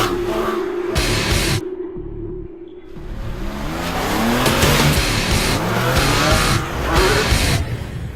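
A Porsche 911 997 GT3 RS Generation 2 track-focused road car drives hard, its loud engine roaring and revving with tire noise, briefly dipping before surging again throughout.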